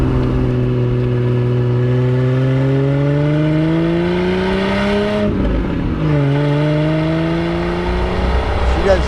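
A 1976 Triumph TR6 with overdrive under way, its engine note climbing steadily, dropping briefly at a gear change, then pulling up again, loud and close from inside the car.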